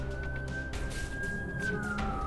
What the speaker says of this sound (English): Sorry for the siren going.